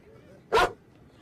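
A single sharp bark from a cartoon German Shepherd, short and clear over a quiet background.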